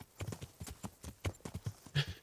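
Horse hooves clip-clop in the video game Kingdom Come: Deliverance, a steady run of close, distinct footfalls in a quick trotting rhythm with no talk over them.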